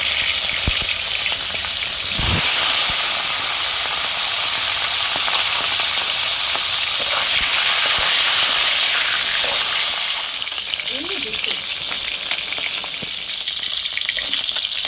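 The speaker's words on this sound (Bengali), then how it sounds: "এবার আমি মাছের মাথাগুলো ভেজে নেব।" Hilsa fish heads fry in oil in a kadai, a steady loud sizzle and crackle running continuously throughout with occasional sharper pops and a brief clatter near the start.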